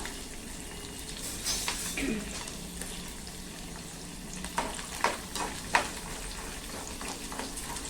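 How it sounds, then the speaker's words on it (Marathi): Peanuts frying in oil give a soft, low sizzle, with a few brief stirring clinks and scrapes toward the end. "दाणे मस्तपैकी तळून घेऊया"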